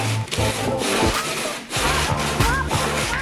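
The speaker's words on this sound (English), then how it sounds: "I'm just going to try to block a wood with some sandpaper. This is 80 grit." Hand sanding of fiberglass with 80 grit sandpaper wrapped on a wood block, heard as loud, close, rhythmic back-and-forth scraping strokes that repeat steadily.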